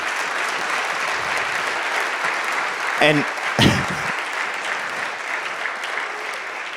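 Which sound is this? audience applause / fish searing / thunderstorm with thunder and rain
audience applause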